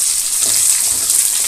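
Onions and green chillies sizzle loudly in hot oil, a steady, close, hissing crackle that holds without a break.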